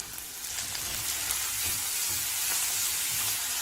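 Coriander greens, mustard seeds, urad dal, green chili and onion fry in a little oil for a Chettinad vegetarian meal, giving a steady, close hiss and crackle with soft stirring sounds underneath.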